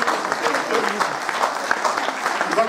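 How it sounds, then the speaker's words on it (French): A church congregation applauds during a French-language Sunday service, with dense, steady clapping throughout and voices mixed into the noise. "Est-ce qu'on peut applaudir?"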